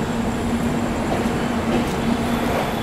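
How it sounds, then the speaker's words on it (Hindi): Sampoorna Kranti Express pulling into Patna Junction, a steady low rumble of rolling rail cars with a faint sustained hum, close and continuous throughout. "और हमारी ट्रेन यहाँ पर रुकेगी और अच्छा खासा टाइम रुकेगी।"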